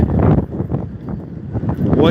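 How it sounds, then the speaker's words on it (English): Strong wind buffets the microphone on a Dublin city street, a loud low roaring rumble throughout, with a voice talking under it. "Sorry, it's very windy."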